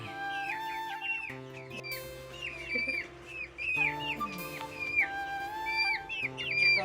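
Chickens at a household where poultry is being collected, giving repeated clucks and short rising calls in an uneven run, fairly close and steady, with faint squeaks and rustling in the background.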